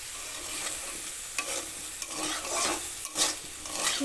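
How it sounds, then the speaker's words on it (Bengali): Soybean chunks and potato fry in a pan with salt and turmeric while a spatula stirs them, producing repeated close scraping strokes over a continuous low sizzle. "ভালো করে নুন হলুদ মিশিয়ে নিচ্ছি দশ পনেরো সেকেন্ড সয়াবিন আলুটা এভাবে ভেজে নেব"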